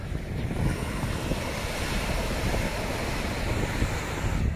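Sea waves at rising tide wash in with white foam beside a cross-sea bridge at Daru Mountain, a steady broadband rush of surf mixed with wind buffeting the microphone, continuous and fairly loud with no voices.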